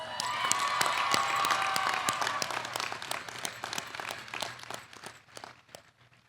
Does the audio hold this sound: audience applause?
yes